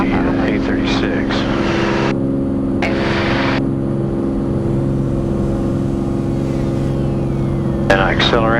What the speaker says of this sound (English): the airplane takes about 8 seconds to get to takeoff speed